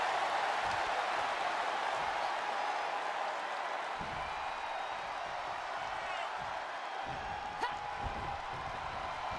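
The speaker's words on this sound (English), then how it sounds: "The roar of this crowd has been building, and they are at a fever pitch right now" A wrestling arena crowd at a WWE SmackDown bout between Rhea Ripley and Ronda Rousey roars in a steady, dense wash of cheering and applause, with one sharp thud near the end.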